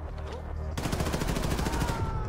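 Rapid automatic gunfire in the video game Wolfenstein: The New Colossus, loud and dense bursts erupting after a brief quieter start, with someone talking faintly underneath.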